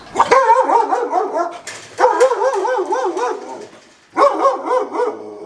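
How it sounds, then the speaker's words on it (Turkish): A dog at a rural vineyard house gives short bursts of rapid, yappy barks in three clustered runs, close and loud, with brief gaps between them. "Oğlum ha, hırlama lan adama."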